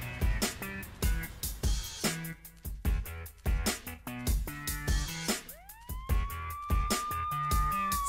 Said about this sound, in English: Sirens screaming, horns are blowing, engines rushing